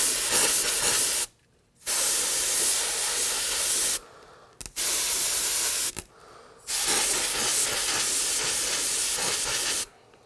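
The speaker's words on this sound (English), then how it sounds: "I'm just gonna cool that down. Compressed air." Compressed air blasts onto heated plastic of a Ride Custom Back motorcycle bag to cool it, four loud sustained hissing bursts separated by brief silences, close and with no voices.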